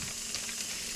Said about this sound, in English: I'm gonna throw the sausage patties on here.